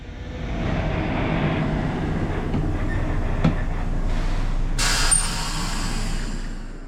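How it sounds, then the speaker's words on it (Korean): Continuous rumbling of a one-car Korean Mugunghwa passenger train moving along the tracks, a steady low roar with faint rattles and a brief hiss near the end. "무궁화호를 타고 목적지로 이동합니다."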